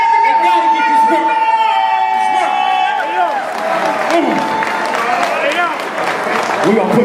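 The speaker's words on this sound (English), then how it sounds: "Give them a round of applause." A debate-show audience claps and cheers loudly, with whoops rising over shouting voices and talk throughout.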